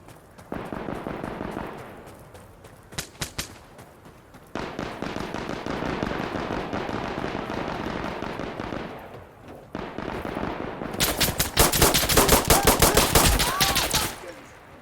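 Automatic weapons blaze in a gunfight in Insurgency: Sandstorm, with dense bursts of rapid machine gun fire broken by short pauses and a fierce, very loud final volley up close.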